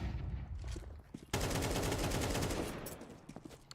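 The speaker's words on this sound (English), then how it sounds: "Holzerk hitting a strong shot, close range against JL" Gunfire in Counter-Strike during a professional esports match, scattered shots followed by a sudden, sustained loud burst of close-range shooting that tapers into a few sharp trailing shots.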